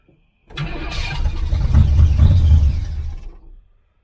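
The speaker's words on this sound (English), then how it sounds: "Start it up so you can hear it. Hear the exhaust sounds pretty good." A 1981 Camaro Z28 V8 with a new dual exhaust cranks, catches and settles into a rough rumbling idle, loud and close, then sputters and fades out as it dies after about three seconds.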